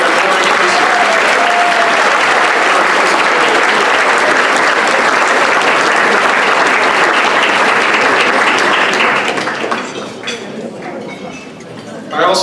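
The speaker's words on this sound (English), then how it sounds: "please join me in a round of applause for these individuals bringing the parade forward again this year" A dinner crowd at a St. Patrick's Day Foundation event applauds the parade organizers, a loud, sustained wall of clapping that carries on for about ten seconds before thinning out, with a voice briefly resuming at the end.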